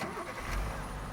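Monster truck engine in a bridge-building video game, a short, steady mid-pitched motor drone with a brief swell partway through, heard close and alone.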